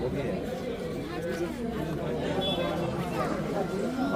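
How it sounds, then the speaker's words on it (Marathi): A dense crowd of people chattering at the ruins of Hampi, a steady babble of many overlapping voices nearby with no single speaker standing out. "गर्दी बघा किती आधी"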